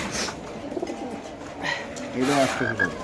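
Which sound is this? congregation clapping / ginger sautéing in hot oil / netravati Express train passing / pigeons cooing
pigeons cooing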